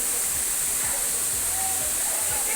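A heavily visited Nigerian waterfall roars as a steady, loud, hissing rush of falling water, heard from a viewpoint on a building's second floor with faint voices underneath.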